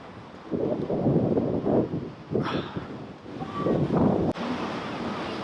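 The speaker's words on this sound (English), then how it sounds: "So that last wave just crashed right over the rock." Rushing sea surf and heavy wind noise fill the clip, with a wave surging and crashing loudly over a rock close by, churning water continuing afterward.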